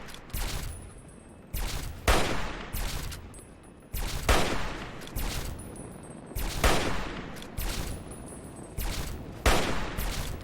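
Rifle gunfire in Fallout 3: repeated sharp shots in irregular bursts, some in quick succession, loud and close, with a faint tonal hum between volleys.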